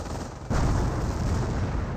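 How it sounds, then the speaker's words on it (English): A decoy artillery barrage in Company of Heroes opens with a sudden loud boom, then rumbling, rolling blasts continue as a dense, low roar with no talk over it. "It was a decoy barrage"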